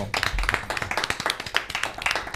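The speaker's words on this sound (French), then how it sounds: "On peut l'applaudir si vous êtes d'accord." Applause from an audience at a Martinique event tied to Audi and the ecological transition agency: a few nearby pairs of hands clapping in quick, uneven bursts, loud and close, with no talk over it.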